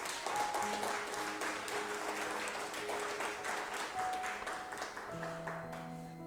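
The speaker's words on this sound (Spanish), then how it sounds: "Yo le daría palmas al Señor." A church congregation claps their hands in praise to the Lord, a steady crowd applause lasting several seconds while sustained musical tones carry on beneath it.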